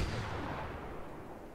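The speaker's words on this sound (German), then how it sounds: "Was macht die für einen Schuss?" A video game weapon shot in Far Cry 4, a deep booming blast that rumbles and decays over a second and a half, heard faintly in the background with no talking.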